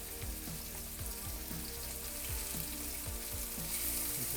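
Beef searing in a hot pan for boeuf bourguignon, a steady loud sizzle and crackle of frying meat throughout, close up with no talking.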